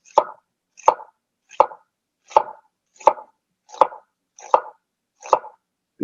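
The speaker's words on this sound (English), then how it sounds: "I want to cut this as thin as possible" Knife shaving pho ingredients as thin as possible on a cutting board: eight crisp, evenly spaced chops about one per second, close and clear against silence.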